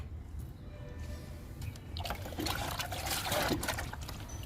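Liquid fertilizer trickles and splashes onto the soil of a red hibiscus plant, a faint start building to a fuller, close pouring stream over a few seconds.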